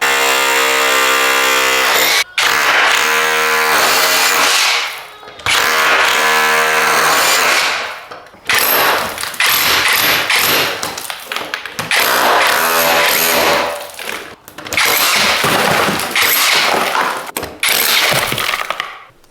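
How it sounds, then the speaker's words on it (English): A power drill chain drilling into a brittle, clay-like plaster wall to cut openings for socket boxes during a house rewiring: loud, whining bursts of several seconds each, separated by short pauses, close up. "So I'll get the drill, do a bit of chain drilling, knock out the plaster"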